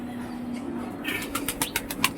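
A pair of Saharanpuri and Madras pigeons take off from a loft, a quick run of rhythmic wing claps and flutters starting partway through after a quiet outdoor lead-in.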